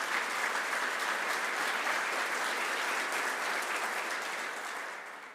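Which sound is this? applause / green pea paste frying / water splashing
applause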